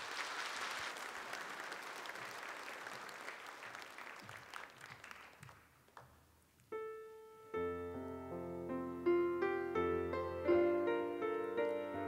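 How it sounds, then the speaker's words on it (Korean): A church congregation claps warmly for a child about to sing, the applause fading out over several seconds before a piano begins playing a gentle hymn introduction. "우리 박수 한번 할까요?"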